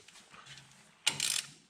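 A ratchet with a 5/8 eight-point socket cranks loose the square transmission drain plug on a Ford 5000 tractor, a short quiet clicking followed by a sharp, loud burst of metallic ratcheting, close up.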